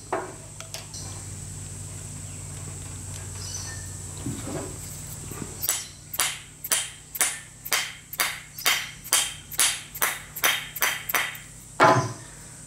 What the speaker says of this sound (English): So I'm going to fill that up with an aluminium plug.